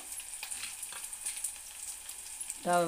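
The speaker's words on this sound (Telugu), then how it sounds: "ఆ మెంతెం కూర కొంచెం అందులో నూనెలో వేగిన తర్వాత మంచి వాసన వస్తుంటుంది." Fenugreek leaves and onions fry in oil with a steady, fairly quiet sizzle and crackle. A short burst of a voice comes in right at the end.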